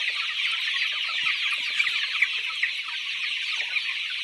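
Dense chorus of chickens clucking continuously on a poultry farm, many birds close together with sharp individual calls popping out of the steady flock noise.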